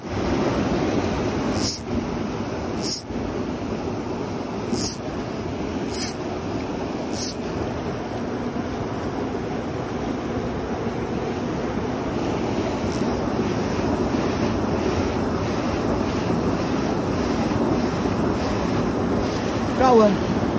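Fast river rapids during a fly fishing outing rush in a steady, close, broadband roar mixed with wind, with a few brief clicks near the start and no one speaking.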